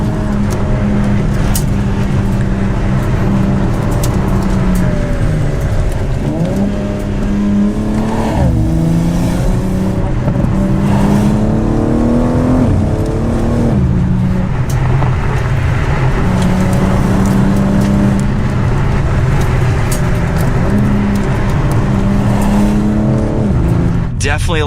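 A 2023 BMW M4 CSL accelerates hard after a launch-control start, its engine roaring loud and close from inside the cabin, pitch climbing and dropping repeatedly as it shifts up through several gears.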